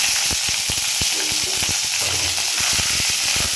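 Cumin and ginger paste sizzling loudly in a frying pan for a rui fish curry, a dense continuous hiss broken by repeated sharp stirring scrapes and taps.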